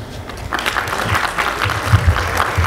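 Audience at an Efik National Association convention in Houston claps for a youth week president, a moderate, steady patter of applause with light voices mixed in.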